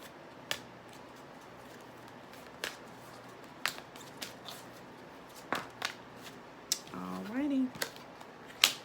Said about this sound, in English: I'm going to go ahead and pull you guys some cards from the Keepers of Light Oracle deck